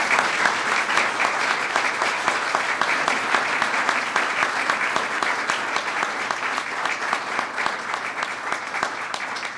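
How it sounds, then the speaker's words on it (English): Sustained applause from an audience at a U.S. ambassador swearing-in ceremony, dense steady clapping filling the whole stretch without a break, no talk over it. "Give them a round of applause."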